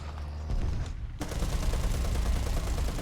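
A Gatling gun on a Stormer AD anti-air vehicle in a tank game opens up after a brief pause, a dense, continuous roaring burst of rapid fire that fills the rest of the moment.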